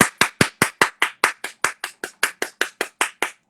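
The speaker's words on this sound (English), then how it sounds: "Violently applauds." About fifteen sharp, evenly spaced hand claps from one person, loud and close, in a steady rhythm with no talking.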